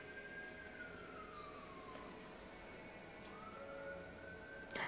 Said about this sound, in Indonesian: Can you hear? Ada sirine.